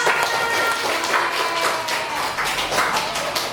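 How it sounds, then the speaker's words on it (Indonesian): Classroom applause from a group of primary school pupils, a steady patter of many small hands clapping at once, sustained and fairly loud across the whole stretch with faint voices underneath. "Tepuk tangan untuk kita semua"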